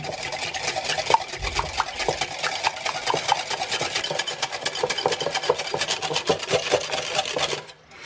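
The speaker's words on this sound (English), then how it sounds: "I'm just using a wire whisk and I'm just going to whisk until they're nice and foamy" Wire whisk beating egg whites in a bowl until foamy for gluten-free ricotta pancakes, a fast, steady rhythm of close scraping strokes that continues for several seconds before stopping abruptly.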